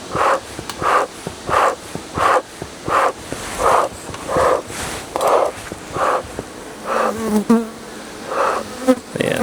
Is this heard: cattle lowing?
no